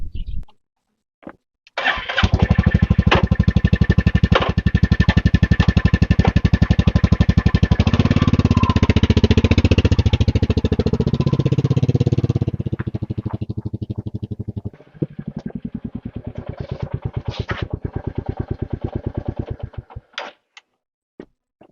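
A Royal Enfield Meteor 350 motorcycle engine starts and pulls away on a short ride, its loud steady thrum rising and shifting through gears for about ten seconds before easing off to a quieter idle with some handling clatter near the end.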